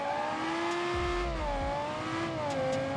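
A car with a Lamborghini V10 engine, the Audi R8 V10, revs steadily with a loud, continuous tonal drone that rises and dips slightly in pitch, with no talk.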